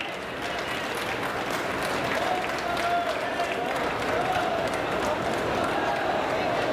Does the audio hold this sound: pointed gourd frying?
no